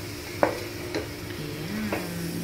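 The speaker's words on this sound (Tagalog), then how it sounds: "Iprituhin natin yung ating celery." Celery sautéing in a pan for pansit, a low sizzle under a few sharp spatula scrapes and taps, fairly quiet and close with no talking.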